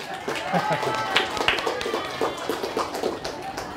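A room full of listeners claps on request during a Quran recitation gathering, a dense scattered patter of hand claps mixed with murmuring voices and talk throughout.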